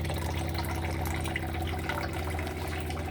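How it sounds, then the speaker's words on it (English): An Aura water filter system draws in running tap water through its filters, producing a steady, loud rushing and gurgling flow that continues unbroken with no voices. "This is now taking in water from the tap through the filters"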